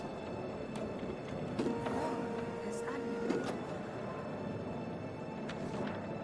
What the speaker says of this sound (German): Ich will den Drucker drucken lassen.